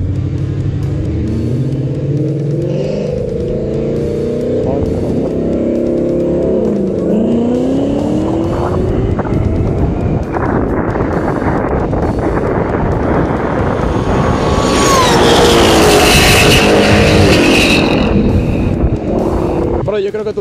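A Ford Mustang racing a Zero electric motorcycle on a racetrack, engine roaring and accelerating up in pitch over heavy wind buffeting, loud and close throughout, with a whine rising near the end.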